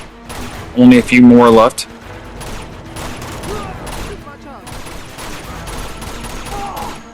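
Video game gunfire in Uncharted 2 on brutal difficulty, a steady clatter of distant rapid shots and small booms running under a voice, with a loud burst of talk near the start.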